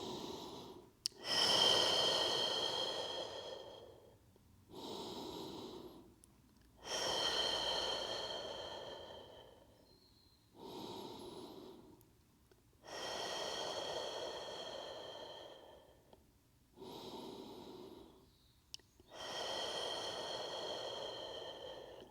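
Long, deep breaths during a stretching workout sound as slow, airy inhales and exhales close to the microphone, about eight separate breaths with short pauses between them and no talking.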